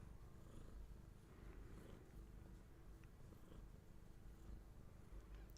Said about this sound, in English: My cats are purring for you.